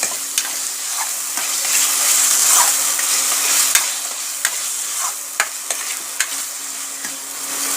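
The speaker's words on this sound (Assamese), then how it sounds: "আলুখিনি দি অকণমান ভাজি দিব" Potatoes fry with masala in a pan for a coconut-milk fish curry, a loud steady sizzle broken by sharp scraping stirs of a spoon against the pan.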